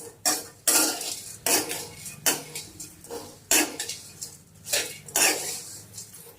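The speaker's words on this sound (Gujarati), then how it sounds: "આ જાડી કઢાઈ છે એટલે ગરમ હશે એમ આપણે થોડીક વાર આમ શેકશું હલાયા રાખશું" A spoon scrapes and clanks rhythmically against a heavy kadai as mango seeds roast in ghee, about a dozen distinct strokes close up and clear, with no talk.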